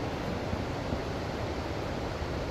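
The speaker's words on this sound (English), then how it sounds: "Listen to that water rush" Water rushes steadily at a waterfall in Rock Island State Park, Tennessee, a dense, even roar that fills the scene without letting up.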